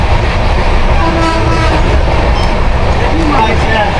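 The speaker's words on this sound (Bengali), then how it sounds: "দেখো আমাদের ইস্ট এক্সপ্রেস কিন্তু দ্রুত গতিতে ছুটছে" East Express passenger train running fast, a loud, continuous rumble and rattle of the carriages with faint clicking from the rails, heard from inside the coach, with voices mixed into the noise.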